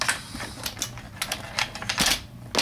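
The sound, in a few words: IBM keyboard being set down on a mat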